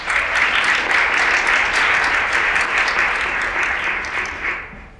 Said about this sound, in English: I have another round of applause for our panelists.